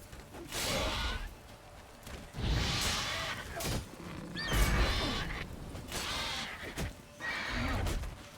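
Horse neighing and whinnying in the video game The Witcher 3, several loud snorting, whinnying bursts close by, separated by short pauses, with faint game sounds between them.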